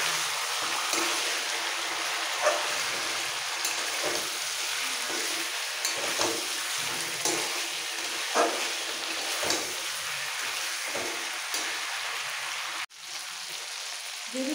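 Chicken sautéing in a pan with tomatoes and cumin paste for a chicken and vegetable curry, a steady close sizzle with occasional scraping stir strokes and a sharp clack near the end.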